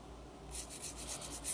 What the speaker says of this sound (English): I'm going to stop filing